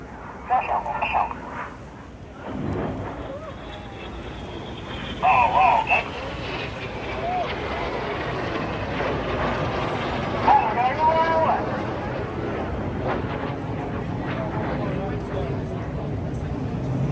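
Aerobatic display jets flying a boomerang manoeuvre at the Blackpool airshow produce a rising and falling engine roar, partly covered by an announcer talking over a loudspeaker.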